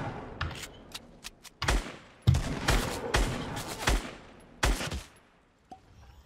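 Rapid gunfire in the Fortnite video game: a series of sharp, loud bursts and volleys, some in quick clusters, spread across the clip with brief pauses between them.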